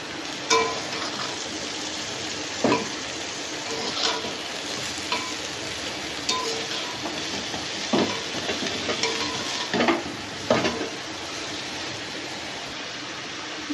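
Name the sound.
water lily stems added to spiced masala, stirred and frying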